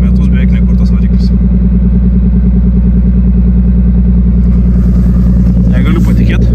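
A Ford Mustang with 72,000 km, rebuilt after crash damage and left unstarted for nearly a year, idles steadily close by right after starting. The idle is a continuous low, even rumble with a fast regular pulse and a faint clatter, and no speech is heard.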